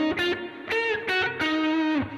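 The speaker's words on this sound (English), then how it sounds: "This one is a quite distorted Mesa Boogie Mark II amplifier, like a crunchy sound with a spring reverb, as you can hear, and an analog delay" An electric guitar plays a short bluesy phrase of sustained notes and bends through a crunchy, distorted Mesa Boogie Mark II amplifier, with spring reverb and analog delay trailing each note, heard alone.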